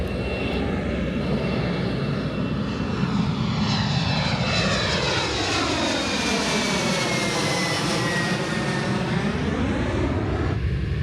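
A jet airliner flies low overhead at the end of Reagan Airport, a loud, sustained roar whose pitch sweeps down and back up as it passes close, with no talking.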